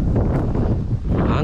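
Strong wind roars and buffets the microphone in a Norwegian snowstorm, a dense, continuous rumbling rush with no letup.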